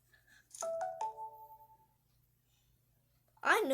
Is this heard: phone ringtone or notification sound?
yes